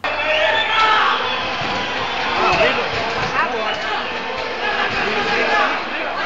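A rowdy crowd shouts and cheers in a dense, continuous roar with mixed voices, loud and excited throughout, some raised voices standing out from the din.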